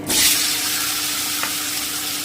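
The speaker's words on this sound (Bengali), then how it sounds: "এবারে আমি আলুগুলো ভেজে নিচ্ছি" Potatoes sizzle in hot oil in a pan, a loud, dense, continuous frying hiss with a brighter burst at the start and one small pop partway through.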